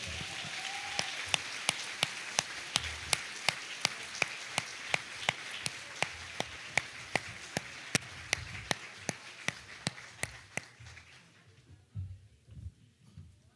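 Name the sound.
congregation applauding in church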